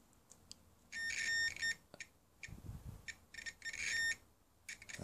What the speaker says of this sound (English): we've got a beep, so we know that's good from there to there